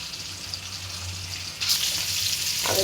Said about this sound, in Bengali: আজ আমি ঢেলা মাছ তেলের পরে ভাজবো, কোনো মরিচ মশলা দেবো না।